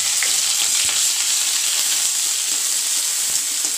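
Fresh ginger dropped into hot oil in a home kitchen crackles with a steady, loud sizzle and frying hiss, with faint stirring clicks and no talking.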